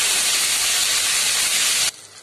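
Tomatoes drop into hot oil with half a spoon of cumin and set off a loud, close, hissing sizzle that runs steadily and then suddenly falls to a quiet simmer.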